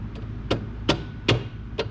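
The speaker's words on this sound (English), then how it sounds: "I can actually just use a mallet and drive those barbs onto the trim." A mallet drives clip barbs onto the rocker trim of a Ferrari 330. Four or five sharp taps land at an irregular pace, close and fairly loud over a low steady hum, with no talking.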